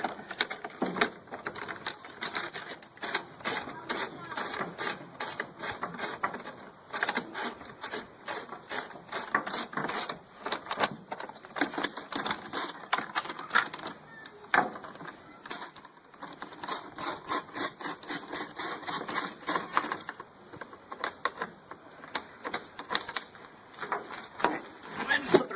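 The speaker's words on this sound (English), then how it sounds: "There are a couple more bolts that we'll go ahead and remove on this side." Bolts being removed from the cover of a WEN 2500-watt inverter generator, heard as rapid, steady ratcheting clicks in close-up bursts with brief pauses, continuing for most of the span.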